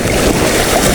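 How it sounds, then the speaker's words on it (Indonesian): Strong sea waves and wind at sea during a fishing trip make a loud, continuous rushing roar with buffeting wind noise against the microphone, no talking. "Memang pot ombak nih hari ini"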